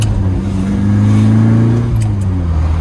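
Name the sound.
Lotus Elan restomod car engine revving on road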